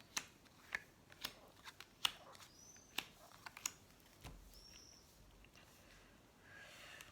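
Tarot cards being shuffled and laid out for a nine-card spread: close, quiet, irregular crisp snaps and soft slaps of card stock, alone with no talk.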